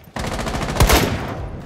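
Buck's gun fires in Rainbow Six Siege as one rapid, close burst of automatic shots lasting well over a second, with a heavier thump near the middle. No voice is heard over it.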